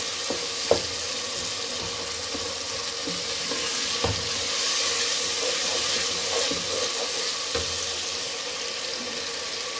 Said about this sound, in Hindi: इसको हम मजीद 5 मिनट भूनेंगे। मसाले को हम अच्छे से भूनेंगे।